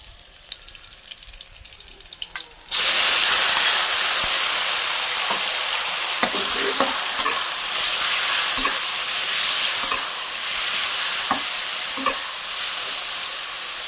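Marinated pork hits a hot pan already fragrant with fried garlic, bursting into a loud, continuous sizzle after a quiet start, with repeated scraping and stirring clatters as it fries.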